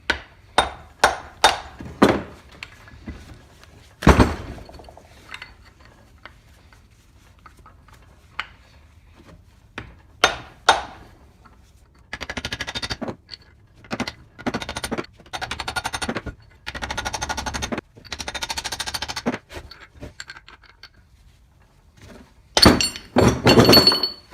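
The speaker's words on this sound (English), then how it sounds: "I'm just going to try to use this chunk of aluminum and hook that inner corner, and then we'll see if we can tap it out" A stuck scroll from an old four-jaw combination scroll and independent chuck is tapped out with a chunk of aluminum, giving sharp metallic knocks in quick bursts and clustered runs, loud and close, with no talking.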